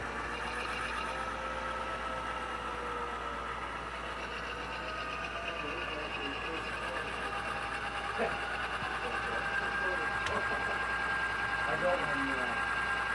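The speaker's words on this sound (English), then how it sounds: "we're pulling out of Interbay northbound with about 25 cars" An HO scale model train led by a BN Alco C415 pulls out northbound with about 25 cars, giving off a steady motor whine and hum with faint rhythmic clicking from the track, continuous and moderately close.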